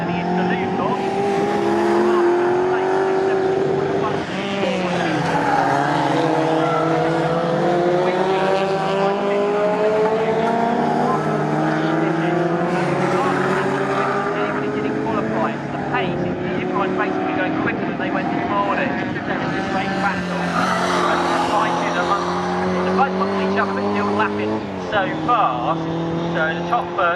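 Pre-1983 Group 1 and pre-1966 touring race cars at Snetterton roar past on the circuit, a loud sustained engine drone with rising and falling passes and gear changes, continuous throughout.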